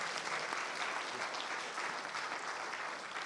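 A conference room audience claps together in steady, moderately distant applause that holds at an even level for a few seconds.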